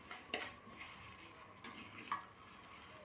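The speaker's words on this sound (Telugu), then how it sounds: "మెల్లిగా స్లోగా కలుపుకుంటూ" Moong dal roasting in a pan for sago moong dal payasam, stirred slowly with a spoon; soft scraping and clinks rise over a faint steady sizzle, with a couple of sharper knocks, close and fairly quiet.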